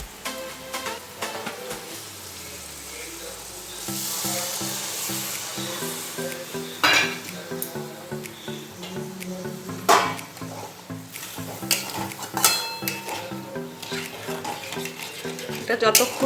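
A yogurt and spice mixture sizzles as it is stirred and sautéed in a wok, with a spatula scraping and clinking against the metal in irregular strokes, close and fairly loud.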